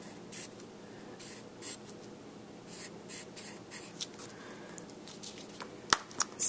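Pencil scratching and rubbing across paper while coloring in, irregular bursts of short strokes, close and fairly quiet, with a sharper tap near the end.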